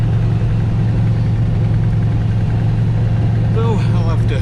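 A Pontiac Trans Am's carbureted engine idles with a steady low rumble, running rich from over-fueling; a voice briefly cuts in near the end.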